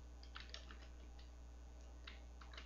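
Caption text typed on a computer keyboard in ActivInspire, as faint, quick, clustered key clicks in two short bursts over a steady low hum, with no talk.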